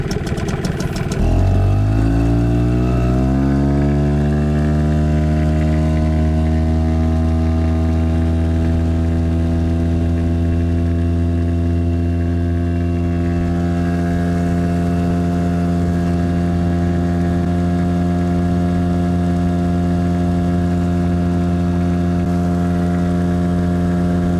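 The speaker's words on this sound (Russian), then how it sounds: "Так, давайте заводим моторчик. Вот видите, как он хорошо заводится." A single-cylinder outboard motor on a Flagman 380 boat starts, then settles into a loud, steady, throbbing idle that runs on without a break. No one speaks.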